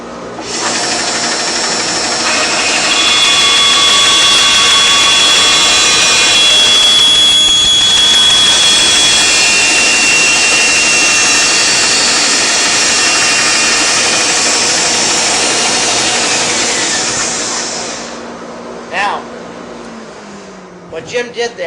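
A Shopsmith SS102 band saw runs up and resaws a thin stock board, a loud, sustained whining cut lasting most of the clip before winding down, followed by a few clunks.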